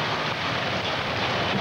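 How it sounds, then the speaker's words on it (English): Heavy rain from a Denver hailstorm with strong winds, a dense, steady roar of falling water that stays even and unbroken throughout, with no voices. "Here's a look at that storm."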